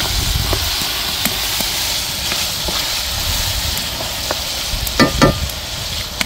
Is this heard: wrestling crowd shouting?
no